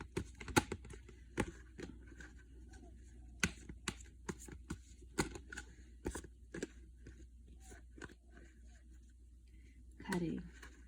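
Tarot cards shuffled and cut by hand, a series of soft, irregular snaps and riffling clicks close by, with a speaking voice coming in near the end.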